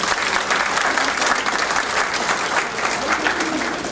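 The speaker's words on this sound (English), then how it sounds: "I'll give you a chance to give your friends and families a round of applause" A crowd at a fall honors recognition ceremony gives a dense, continuous round of applause for friends and families, steady and full from start to finish.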